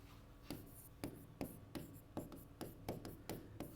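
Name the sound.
chalk writing answer on a blackboard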